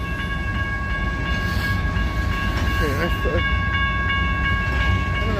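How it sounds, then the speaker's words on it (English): Short freight train of the Portland and Western Railroad, locomotive 1009, passing steadily with a constant rumble, wheel noise and ringing tonal whine; a person speaks briefly over it. "I believe this is a short freight train this time."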